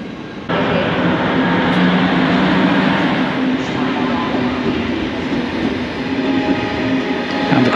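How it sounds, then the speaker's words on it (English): A České dráhy passenger train bound for Prague sits at a Budapest station, its steady rumble and hum filling the hall loudly after a sudden start, with a brief clank partway through. "Across the way is the České dráhy train that is on its way to Praha, Hlavní nádraží."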